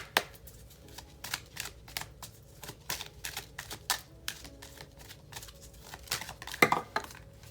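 Tarot cards shuffled and drawn from a deck, with a string of sharp, dry snaps and flicks spaced unevenly, close by and fairly quiet, over a soft background hum.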